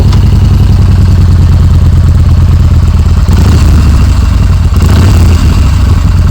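A 2025 Yamaha Bolt R-Spec motorcycle engine runs loud and close throughout, a deep, throbbing rumble with slight swells in revs and no speech over it.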